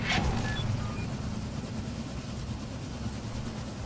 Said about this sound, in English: Hey, the train! Coming down the pike!